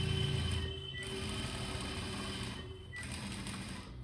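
Close-up sewing machine runs a continuous stitching whir along a Madhubala-style blouse edge seam, with slight drops in pace and no voices.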